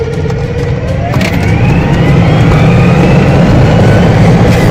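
A car engine revs up hard at full throttle, a loud continuous roar with rising pitch that builds and holds steady throughout, close by.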